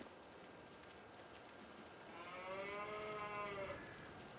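A single cow moos partway through, a long drawn-out low call rising over quiet farm ambience in Farming Simulator 22, somewhat distant and soft.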